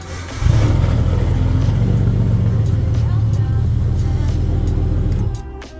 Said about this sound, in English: But the Skyline still fires right up.